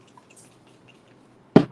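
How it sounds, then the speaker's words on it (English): A spray bottle gives a single short burst of water onto a stencil laid on a cloth nappy, close and fairly loud after near silence. "Spray it with just a little bit of water."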